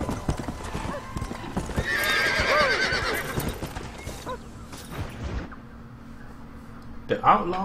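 A horse in Red Dead Redemption gallops with rapid rhythmic hoofbeats, then whinnies loudly and slows to a halt, while someone speaks over it.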